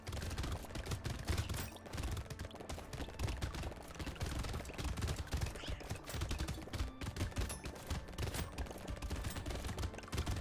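A Gatling gun fires in the video game Brotato, a dense, unbroken stream of rapid shots layered with clattering game effects, moderately quiet and steady for the whole stretch.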